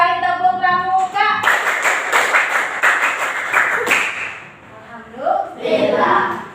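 Schoolchildren perform one round of the Indonesian scout clap, tepuk pramuka, a brisk patterned series of hand claps lasting a couple of seconds, framed by talking voices and light laughter.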